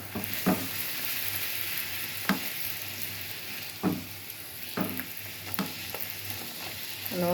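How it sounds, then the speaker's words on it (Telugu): Puris deep fry in hot oil with a soft, steady bubbling sizzle, broken by a few occasional scraping or clinking touches of a utensil, close but fairly quiet. "నూనె బాగా కాగాక వేయాలి ఫ్రెండ్స్"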